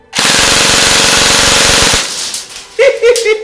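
An electric airsoft pistol rips off one loud, continuous full-auto burst of about two seconds at roughly 26 rounds per second, then falls quiet as faint handling noises follow.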